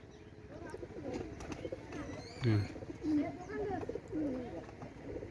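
Male pigeons at home give low, throaty coos in a few short bursts against steady background noise, while a person speaks briefly and murmurs nearby.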